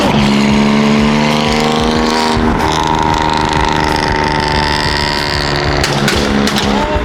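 A BMW M3 F80 engine revs hard and loud, its high-pitched roar rising and falling through sharp throttle blips with a brief crackle near the end, heard close and alone.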